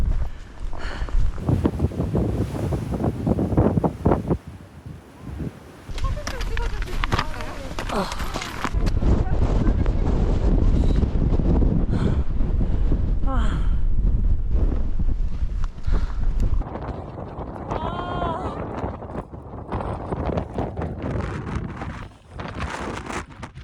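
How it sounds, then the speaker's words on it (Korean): Strong wind buffets the microphone on Hambaeksan mountain, a loud continuous roar with gusts that swell and ease, while people talk intermittently over it. "바람이 진짜 엄청나네요"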